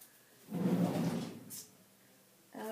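A craft storage drawer slides open with a rumbling scrape, then a short knock follows, and a second slide starts near the end, all at moderate volume with no voices.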